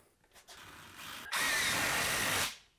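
A power drill drives screws into a wooden top plate, a short whir rising into a loud, steady buzz for about a second before cutting off.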